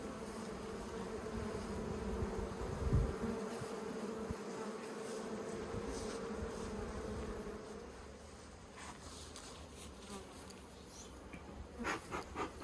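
Honeybees hum and buzz thickly around the entrance of a top bar hive outdoors, a steady droning swarm sound with individual insects passing close by, and no voices.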